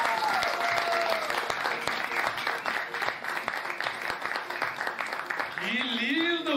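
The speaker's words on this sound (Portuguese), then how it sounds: "Eu quero uma salva de palmas, hein, gente?" A studio audience at a variety show claps continuously and energetically, with a voice briefly heard over the applause near the end.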